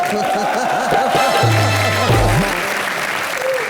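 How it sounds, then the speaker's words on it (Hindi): A comedy-show studio audience breaks into applause, a full, loud clapping bed with music and sound-effect tones layered over it throughout. "जोरदार तालियां"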